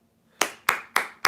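Four sharp, close hand claps come in an even rhythm after a brief quiet start, from one person alone.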